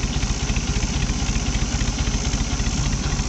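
A 1964 Ford 2000 tractor engine idles steadily with a fresh carburetor, its low rhythmic chugging loud and close with a fast, even pulse and no talk over it.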